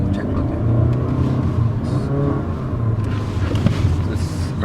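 A Honda Vezel accelerates at full throttle on a test drive, with a steady loud engine and road rumble filling the cabin throughout without a break.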